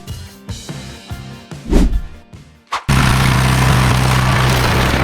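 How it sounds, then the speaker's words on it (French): A straw harvesting machine's engine roars loud and steady after a few seconds of scattered knocks and thumps, the strain holding at a constant heavy drone to the end. "On entend le moteur forcer, les pneus glisser"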